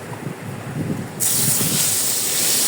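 Hilsa fish bones salted with turmeric fry in hot oil in a wok, a quieter start giving way to a sudden loud, bright, continuous sizzle that holds close and steady.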